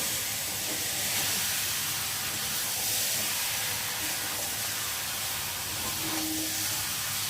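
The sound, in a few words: chicken sautéing with spices in a pan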